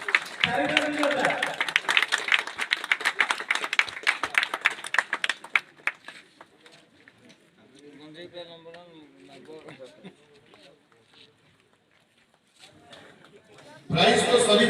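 An audience claps loudly at a trophy presentation during a regional Ram Natak folk drama event, with dense, close applause for about six seconds that fades out, followed by quieter voices and a sudden loud burst at the end.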